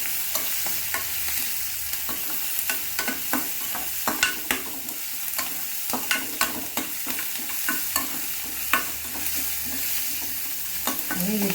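Grated coconut sizzles in a hot pan for kara chutney, with a spatula scraping and stirring in an irregular rhythm of close, clear strokes over a constant frying hiss and no voices.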